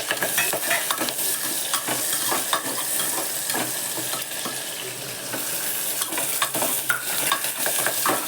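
Curry leaves and coriander sizzling in hot oil in a pan while cooking tondli rice, a dense continuous frying hiss with frequent stirring clatters and scrapes throughout.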